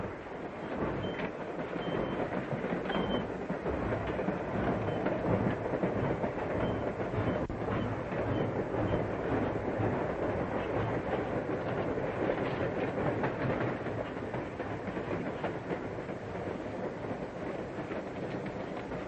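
A train runs on rails for the full stretch, its steady rolling rumble carrying a clickety-clack rhythm of wheels over track joints, fairly loud and continuous with no speech.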